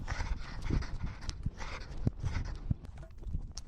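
Rapid, rhythmic panting from a running cat close to the microphone, mixed with soft padding footfalls and faint thumps, steady throughout.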